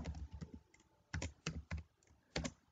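Code is typed on a computer keyboard, with short clusters of crisp, close key clicks separated by brief pauses in a quiet room.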